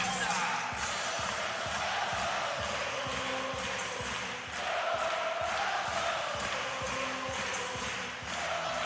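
A sellout arena crowd at a volleyball World Championship gold medal match between Brazil and Poland roars steadily with cheering and whoops, loud and continuous, with rhythmic chanting pulses throughout.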